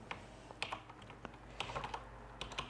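Computer keyboard typing Small Basic code, soft close key clicks in quick irregular bursts, faint and alone.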